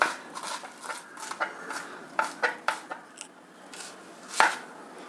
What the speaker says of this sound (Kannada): ಈಗ ಹಸಿ ಮೆಣಸಿನ್ಕಾಯಿ ಸ್ವಲ್ಪ ಸಣ್ಣದಾಗಿ ಹಚ್ಕೊಂಡ್ರೆ ಒಳ್ಳೆಯದು